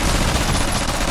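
Dense, continuous gunfire from the Binary Domain video game, a loud sustained burst of overlapping shots that fills the clip with no pauses.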